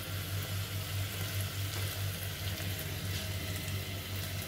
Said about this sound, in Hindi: पानी डाल के